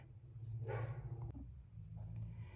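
A pet dog coming into a room where someone sits knitting socks, giving a short whimpering bark or yip near the start over a steady low hum, then quiet room tone.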